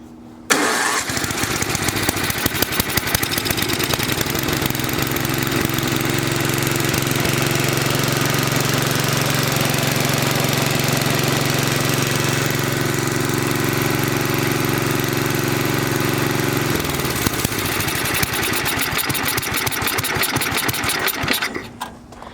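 A small engine on a salvaged, slightly rusty auger machine runs steadily and loud for about seventeen seconds with a constant droning rumble, then cuts off and goes quiet near the end.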